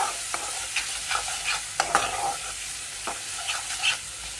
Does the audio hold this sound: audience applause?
no